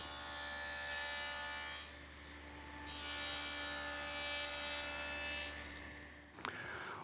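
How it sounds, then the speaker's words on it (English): Table saw fitted with a dado blade cutting a rabbet across the top of a plywood sawhorse part, a loud continuous whining, grinding cut that holds steady for several seconds before an abrupt clunk at the end. "and cut a rabbet at the top."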